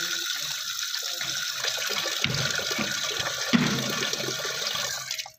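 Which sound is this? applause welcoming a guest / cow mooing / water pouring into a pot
water pouring into a pot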